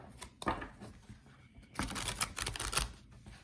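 Cards are shuffled up close, a short riffle followed by a longer run of quick papery flicks and taps.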